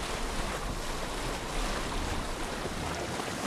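Ocean waves wash against a boat at sea in Assassin's Creed Odyssey, a loud continuous roar of surf and wind with no break across the whole stretch.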